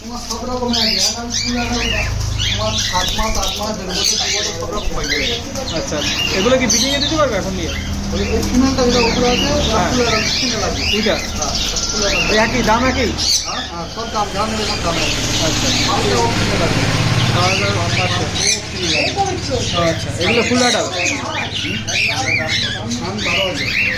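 Caged birds at a bird shop squawk and chatter in a busy, constant din, with people talking among the calls.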